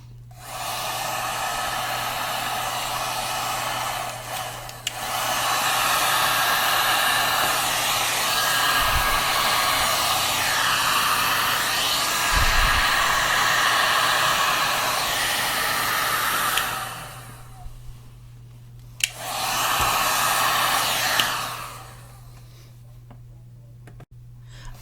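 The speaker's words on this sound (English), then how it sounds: "I'm going to hit it a little bit more with the heat gun" A heat gun blows steadily on alcohol ink over a glass gem stone tray, a loud continuous whoosh running in long stretches with brief breaks near five and seventeen seconds before it shuts off.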